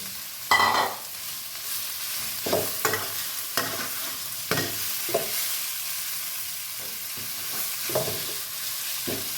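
Pieces of pork stir-fried in a pan for a bamboo shoot, basil and dried chili dish: a soft continuous sizzle broken by spaced scrapes and taps of a spatula, close and alone.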